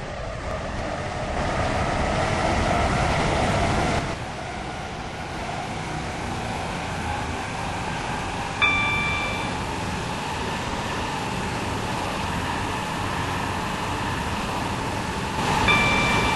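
Class 707 electric train running in the Stepford County Railway game: a steady broadband rumble and rail noise throughout, with a brief tonal chime or beep near the middle and again at the end, no voices.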